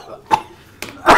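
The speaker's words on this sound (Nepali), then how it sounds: "को खोक्छ भने" Two or three short, sharp coughs burst out from one person against a quiet room.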